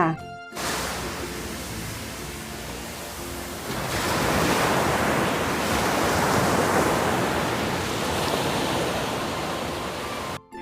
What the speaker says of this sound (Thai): ช่วงนี้ไปฟังเสียงคลื่นสบายๆหูกันนิดนึงค่ะ